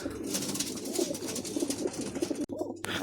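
Pigeons, two of them black-winged, coo nearby in a steady overlapping murmur of low rolling calls that breaks off briefly near the end.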